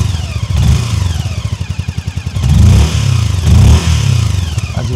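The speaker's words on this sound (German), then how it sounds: "Auspuffsound auch sehr gut." A Lambretta G350 retro cruiser scooter idles and is revved in several loud, close bursts, its deep, sonorous exhaust note rising and falling with a pulsing throb between blips.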